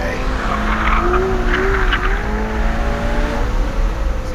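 A Porsche Carrera GT slides and skids on a wet road with tires squealing over a steady engine drone, the noise loud and close throughout.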